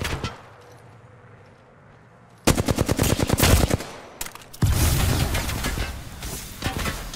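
Gunfire aimed at the player in Apex Legends: quiet ambience, then a loud rapid burst of automatic shots, a short pause, and another sustained volley close by.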